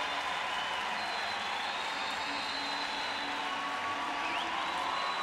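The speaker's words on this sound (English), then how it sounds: "what you can hear is a huge cheer for the two remaining athletes in the pool" A large arena crowd roars steadily during a Rio 2016 Paralympic men's 50m freestyle S3 swimming heat, a dense, even wash of cheering and applause with no clear voices on top.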